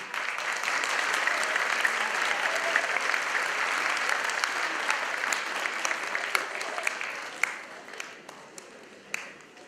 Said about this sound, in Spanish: Recibamos con un fuerte aplauso a Monsieur Pierre-Laurent Poulet.